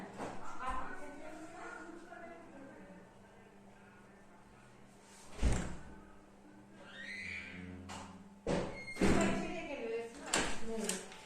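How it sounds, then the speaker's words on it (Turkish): An indoor door pushed shut lands as a sharp thump mid-scene, followed by a few more knocks, with people talking in a home before and after. "Kapıyı bir örteyim içeri."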